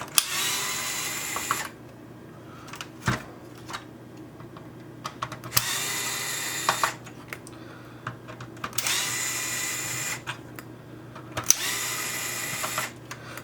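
A cordless power screwdriver backs screws out of a game console case, whirring in several short bursts of a couple of seconds each, separated by quiet handling clicks and rattles, close and fairly soft.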